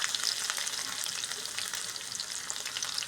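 Ginger-chilli paste hits hot oil during a tempering with mustard seeds and cumin, giving a loud, steady, close crackling sizzle that runs unbroken throughout, with no talk.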